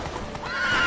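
A horse in The Witcher 3 video game gives a brief, loud neigh over galloping hoofbeats, heard up close in a short burst.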